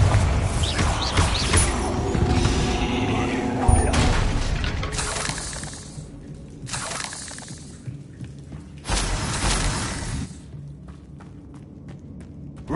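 Bombarda explosion spell from Hogwarts Legacy, loud shattering blasts and booms in a cluttered battle, several bursts separated by brief gaps with footsteps and whooshes between.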